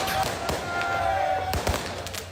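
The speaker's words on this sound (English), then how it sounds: "Fireworks too." Fireworks crack and pop in scattered sharp bursts amid a noisy crowd of football fans in the street, with a whistle-like tone rising briefly.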